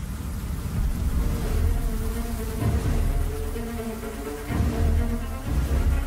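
Honeybees mobbing an intruding hornet at the comb make a dense, continuous buzzing drone, loud and close, swelling and dipping in waves for several seconds with no voices.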